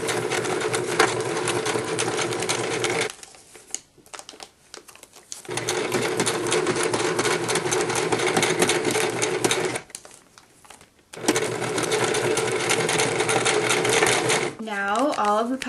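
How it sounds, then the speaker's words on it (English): A sewing machine sews pockets onto a wallet made from juice pouches in long, steady bursts of rapid stitching, stopping briefly twice, with a short spoken phrase near the end. "Sew on the sides and the bottom of the smaller pocket."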